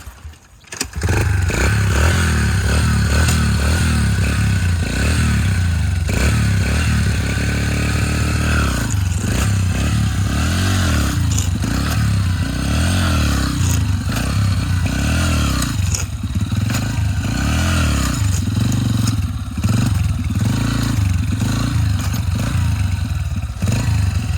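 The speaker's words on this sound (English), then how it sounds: "a little bit of throttle, a lot of clutch. Listen to the revs here." A small, docile motorcycle revs hard with the clutch popped for practice wheelies, its loud, close engine droning continuously with rising and falling revs and some clattering throughout.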